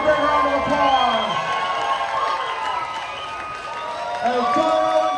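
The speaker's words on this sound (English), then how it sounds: "Let's give him a big round of applause." Spectators at a truck demolition derby clap and cheer in a broad wash of applause and whoops, with an announcer's amplified voice talking over the crowd.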